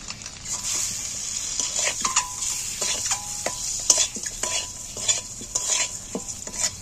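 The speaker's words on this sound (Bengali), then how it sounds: "নাড়াচাড়া করে এবার আমি ডিমগুলো এর মধ্যে তুলে দিচ্ছি" Eggs fry in hot oil seasoned with turmeric and salt, a steady close sizzle broken by frequent spatula scrapes and stirring clinks against the pan.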